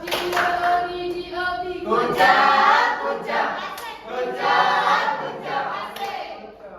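Children in a classroom lesson perform a group clapping routine, chanting together in high voices while hands clap along in bursts, loud and close, with the chant rising and falling in short phrases.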